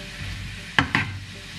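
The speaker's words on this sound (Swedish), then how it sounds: "Jag tänkte jag bara ska steka dem i typ vitlök." Food sizzles in a pan with garlic on a home stove, a steady frying hiss broken by two sharp clatters of stirring or utensil contact, with no talking.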